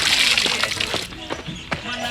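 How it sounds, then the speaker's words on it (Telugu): Water splashes and sloshes in a Telugu film scene, with short wet bursts over a steady rush while voices talk. "నీళ్ళు కొడుతున్నావా?"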